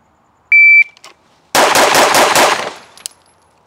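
Five rapid pistol shots from an Atlas Erebus fired in a fast drill at six yards come as a tight burst of sharp, loud cracks with ringing echo, preceded by a short electronic shot-timer beep.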